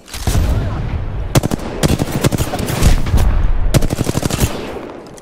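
Rapid automatic gunfire in Apex Legends rattles out in several loud bursts, with dense strings of close shots separated by short pauses over a busy game background.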